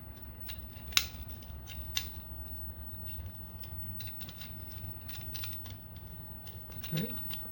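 A Transformers Legacy Knockout deluxe figure gives small plastic clicks and snaps as its parts are moved during transformation: a few sharp, close ticks over a low background hum.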